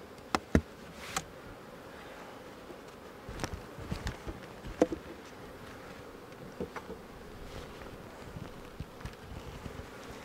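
Honey bees in an open hive hum steadily and softly during a swarm-prevention inspection. The close, even drone carries scattered light clicks and taps from handling, with no talk.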